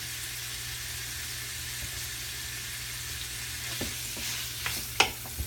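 Floured meat browning in a hot pan gives a steady close sizzle throughout, with a few sharp spits and crackles near the end.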